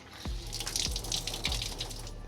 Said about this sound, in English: Let's see how much water we get out of this towel.